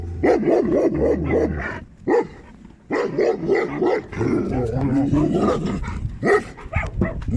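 A stray dog rescued by the roadside barks and yelps repeatedly and loudly close by, in rapid bursts with a few whimpers between them.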